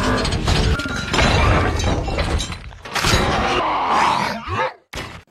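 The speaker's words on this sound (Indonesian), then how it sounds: "Bee menghajar robot tersebut hingga hancur." Robots smash into each other as Bumblebee wrecks an enemy robot in a Transformers: Revenge of the Fallen battle scene, with loud, dense crashing and metallic shattering. The impacts continue almost without a break, then cut off in two brief drops near the end.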